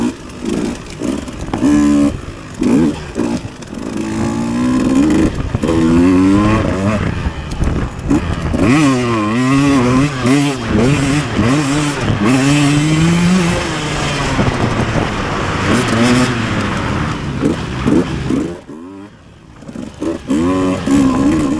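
Motocross dirt bike ridden through a deeply dug-out section of a cross-country race track, its engine revving and bogging loudly and continuously with rising and falling pitch, briefly dropping off near the end.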